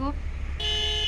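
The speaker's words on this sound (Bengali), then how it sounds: "বাইকের হর্ন," A motorbike horn in an Indian traffic driving video game sounds as a bright, steady electronic beep, loud and close, after a brief earlier tone cuts off.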